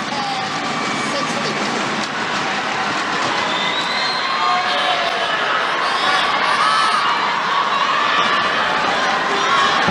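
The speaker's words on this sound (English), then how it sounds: "Crowd bubbling, loving this." A large indoor crowd at a Malaysia versus Indonesia badminton team final in Kuala Lumpur keeps up a dense, continuous roar of cheering and shouting that stays loud throughout, with a commentator's voice partly audible beneath it.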